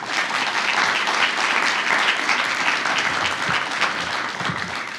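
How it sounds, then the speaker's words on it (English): Audience at a 100th anniversary gala and installation bursts into loud, sustained applause, a dense wash of many hands clapping steadily without a break for the full five seconds. "How about a round of applause for all of them?"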